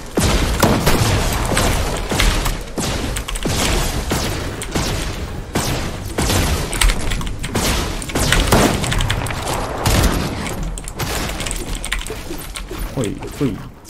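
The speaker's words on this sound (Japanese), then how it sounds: "ハービンジャー連射すんの強いな" Rapid bursts from a Harbinger weapon in a shooter video game, fired in a dense, continuous stream of sharp shots with booms throughout, while a voice talks over the gunfire.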